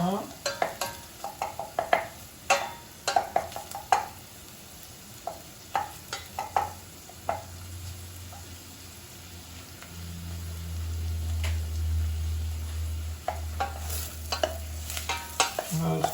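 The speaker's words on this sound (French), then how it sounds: "Pour les oignons, on peut les laisser cuire à peu près maximum 3 minutes, 2 minutes." Chopped onions cook in a pan for homemade pizza sauce: a soft, steady sizzle runs under repeated sharp scraping stirs, with a low rumble swelling midway.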